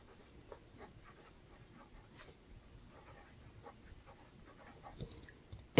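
Faint, close scratching of a fountain pen with a fine stainless steel nib moving across paper in short irregular strokes over a quiet background, no talk.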